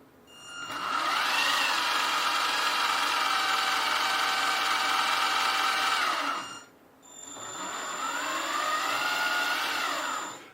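Electric motor of a 1/14 scale Tamiya RC Volvo FH12 truck whining steadily under throttle, rising in pitch and holding for several seconds, dropping out briefly, then spinning up again, close and loud with no talking.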